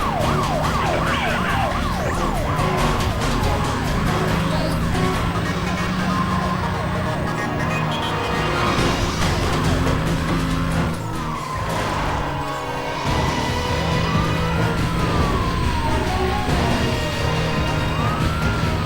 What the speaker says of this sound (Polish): O, drugi radiowóz.